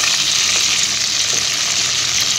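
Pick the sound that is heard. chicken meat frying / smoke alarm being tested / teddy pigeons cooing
chicken meat frying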